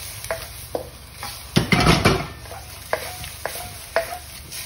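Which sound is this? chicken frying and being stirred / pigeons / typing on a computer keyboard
chicken frying and being stirred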